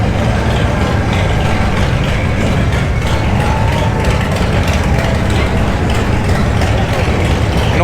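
Dense, steady roar of many motorcycles crowded together at the Sturgis Motorcycle Rally in South Dakota, engines rumbling and revving continuously with no break, loud and close throughout.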